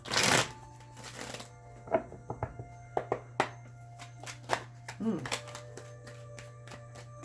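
Tarot cards being shuffled and laid out in pairs for a reading, with a dense riffling burst at the start and then sparse soft taps and slides of cards set down over a steady low hum.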